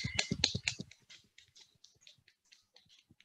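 Faint, light two-finger clapping from an audience: a quick cluster of taps at first, then sparse, soft, irregular pats fading toward silence.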